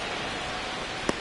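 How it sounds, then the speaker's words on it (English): Steady rain hisses over the ballpark in MLB The Show 26, a dense even wash of falling drops with one brief louder tap near the end, alone. "This rain is not letting up."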